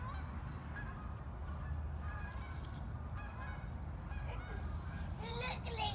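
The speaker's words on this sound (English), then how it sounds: "Those are geese." Geese honk repeatedly at a distance over a steady low outdoor rumble, their calls scattered and overlapping.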